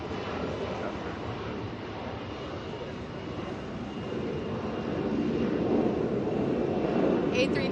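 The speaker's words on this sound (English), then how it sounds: "A321 on the way to Salt Lake City here." An Airbus A321 airliner takes off at an Atlanta airport, a broad steady jet roar that swells gradually louder toward the end, with no voices over it.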